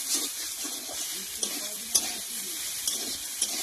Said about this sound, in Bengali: সয়াবিনটাকে ভালো করে নাড়া দিয়ে নেবো।